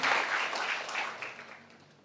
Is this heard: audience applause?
yes